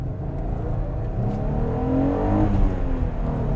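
A 2020 Jeep Gladiator Mojave with a 3.6 liter V6 and manual gearbox accelerating, the engine note climbing steadily in pitch and loudness over a few seconds, heard close from inside.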